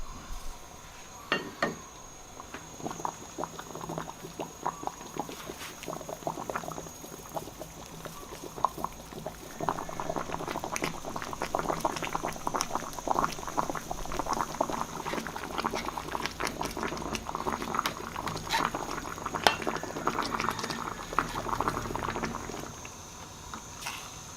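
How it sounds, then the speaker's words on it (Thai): Pork skin-side down in a pot of boiling water, with a quiet, continuous bubbling and gurgling that gets a little busier partway through, with no voices. "ต้มมันนะครับ"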